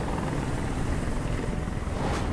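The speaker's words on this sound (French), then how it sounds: "Ouah, l'hélico qui m'enlève" A helicopter in the video game Detroit: Become Human drones loudly and steadily, its rotor wash a dense continuous rumble with no talking over it.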